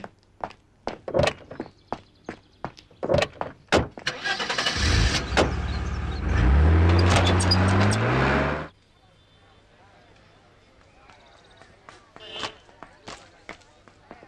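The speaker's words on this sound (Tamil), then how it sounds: "வேட்டு சார், இன்னைக்கு வண்டியை நான் ஓட்டுறேன்." A car door thunks and footsteps sound before the engine starts with a loud, close rising roar that holds for several seconds and then cuts off, with people talking before and after.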